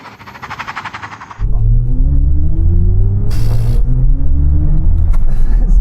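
A BMW i4 electric car launches hard in a 0-60 mph run, a sudden loud surge of rising motor whine and tyre and road rumble over cabin noise, with brief voices inside.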